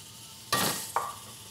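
Salted black beans and banana blossoms hit a hot pan with a loud sudden sizzle, followed by a second shorter hiss as ingredients are stirred, close and without talk.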